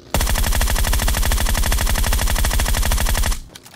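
Sustained automatic gunfire in the video game PUBG Mobile, a loud, fast, evenly spaced stream of shots lasting over three seconds and then stopping abruptly, with no talk.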